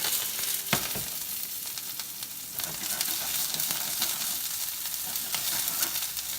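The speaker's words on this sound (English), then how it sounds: "now that my oil is super hot, I'm gonna start with the Brussels sprouts" Brussels sprouts fry in very hot oil in a pan, giving a steady, busy sizzle with crackles and pops. A few soft knocks of stirring sound under it, close and fairly quiet.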